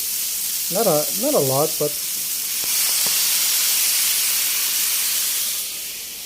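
Teriyaki sauce hits a hot pan of chicken liver with a steady, loud sizzle and hiss that swells partway through, while a voice speaks briefly over it.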